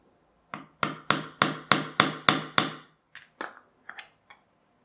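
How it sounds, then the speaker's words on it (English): Seven sharp, evenly spaced metal-on-metal taps as a thick washer is driven further onto a hobby-grade RC car axle, followed by a few lighter, scattered knocks and small handling clicks nearby. "like a thick washer, whether that can be tapped on a little bit further to increase the pressure"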